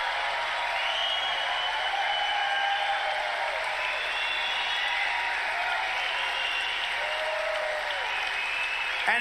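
A crowd applauding at a Trump political rally, steady dense clapping with occasional cheers and whistles rising over it, sustained and fairly loud throughout.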